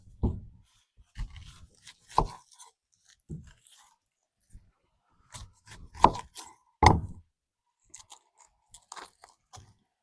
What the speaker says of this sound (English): A super thin slice on these onions.